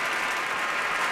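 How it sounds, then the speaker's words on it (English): Brief, steady clapping from a small audience during a sports radio live stream, loud and continuous with no voices over it. "Without Steph Curry, that's definitely worth a round of applause."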